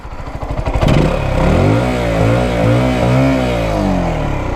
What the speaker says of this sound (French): Puis le petit pot, on va écouter.